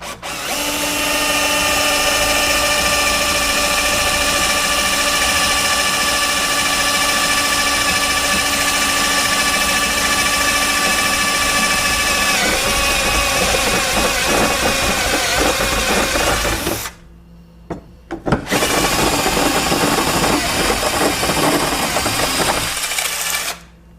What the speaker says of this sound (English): for now I'm just going to drill out this mount and then cut it to length